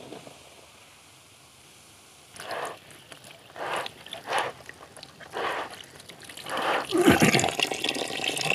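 Water rinses stones that were treated with hydrochloric acid during gold recovery: after a quiet start, a series of sloshing, splashing bursts come close by and grow louder and more turbulent toward the end, with no talking.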